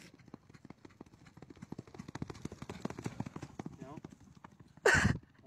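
Horse hooves clip-clop steadily at an outdoor event, a quick run of regular knocks carrying through the first four seconds, with people talking over them and a sudden loud burst near the end.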